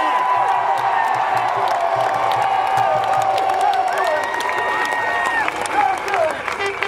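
A large crowd at a political rally in the street cheers, whoops and applauds in a dense, continuous wash of sound, with voices shouting through it.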